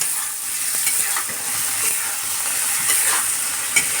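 Small mola fish being stirred in a pan of hot oil, a loud, dense, continuous sizzle with spatula scrapes and light knocks throughout, close by and free of speech.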